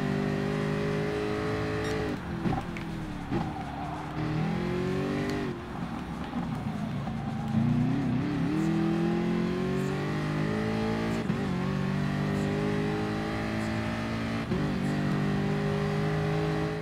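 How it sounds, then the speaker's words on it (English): A race car engine in Gran Turismo Sport drones and revs steadily, pitch climbing through gears with brief drops at shifts, loud and continuous throughout. "I do love the sound of the car"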